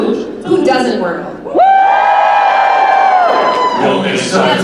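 Crowd at a 2022 Salute to Supernatural fan convention panel in Las Vegas cheers loudly, with one long sustained whoop rising over the general roar before the noise settles back into murmuring voices.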